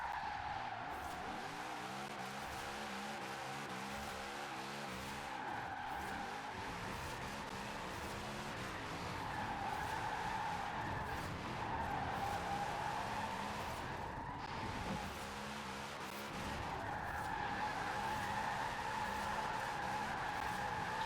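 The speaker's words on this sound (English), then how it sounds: "This is probably one of my favorite spots to drift in Forza." A car drifts in the Forza Horizon 4 racing game, with sustained tire squeal and screeching over a revving engine drone that swells and dips through corners, continuous and moderately quiet.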